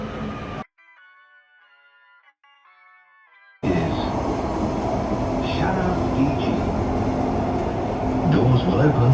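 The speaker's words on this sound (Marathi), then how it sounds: "आता दुबई मेट्रोने आपण जाणार आहे दुबई हेल्थ केअर सिटीला." A Dubai Metro train runs with a loud steady rumble and hiss from inside the carriage, following a brief quiet stretch of faint electronic tones, with voices occasionally audible.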